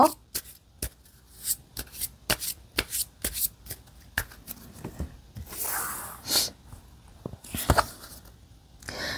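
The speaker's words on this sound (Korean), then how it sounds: "그러면 다른 조언 카드 마지막으로 한 번 더 뽑아볼게요." Tarot cards being shuffled and drawn, with a series of close, sharp riffling flicks in an uneven rhythm, followed by softer sliding and rustling as the cards are handled.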